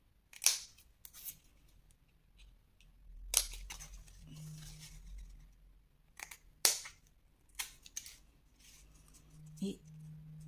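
Scissors cut paper for a scrapbook advent calendar in a few sharp, close snips separated by pauses, with quiet handling noise and someone talking between cuts.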